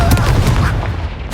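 A Confringo blast spell erupts in Hogwarts Legacy, a loud, booming explosive burst with crackling debris that fades out over about a second.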